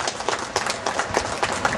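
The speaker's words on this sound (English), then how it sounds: "Round of applause for Steve, please." Steady applause at a bus depot open day, many hands clapping in a close, continuous patter from a gathered crowd.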